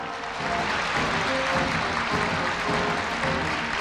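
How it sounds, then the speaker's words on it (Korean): Sustained audience applause fills a hall at a Korea University freshman entrance ceremony, a dense even clatter of many hands at moderate distance with no voices over it. "장학증서를 받은 학생이 내빈께 인사드릴 때 큰 박수 부탁드립니다."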